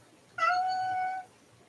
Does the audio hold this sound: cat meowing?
yes